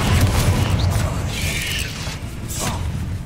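A Confringo fire spell bursts in the Hogwarts Legacy video game, a loud booming blast with a whooshing tail that stays dense and sustained for a few seconds, no talk over it.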